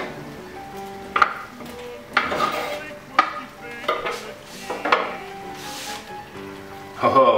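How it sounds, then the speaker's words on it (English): Yellowtail fish pieces go into a pan of pasta sauce, giving a soft sizzle with several distinct stirring and scraping clatters spread across the moment, close by and moderately loud. "Now it's time for me to add the fish straight into the pasta sauce"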